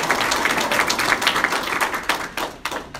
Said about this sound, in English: we could just give her a little round of applause for this